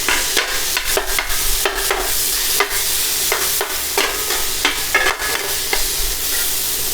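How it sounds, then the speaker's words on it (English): Cheesesteak meat sizzles in a hot pan while a spatula chops and scrapes it, giving repeated sharp metallic taps in uneven bursts over a steady frying hiss. "you just want to work your meat, get it chopped up"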